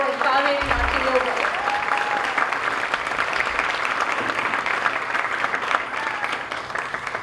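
Audience at a Bharatanatyam Arangetram dance debut gives a long, steady round of applause, many hands clapping in a dense wash that continues evenly, with a faint voice briefly audible near the start.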